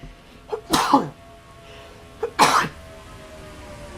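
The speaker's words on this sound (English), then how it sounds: "Excuse me as I sneeze a couple times." Two sharp sneezes close up, each preceded by a quick intake of breath, separated by a brief pause.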